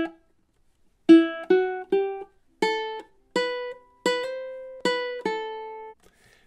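Ukulele picking two measures of a fast melody: about nine clear plucked notes, mostly steady and evenly spaced, each ringing briefly with bright overtones, close and solo.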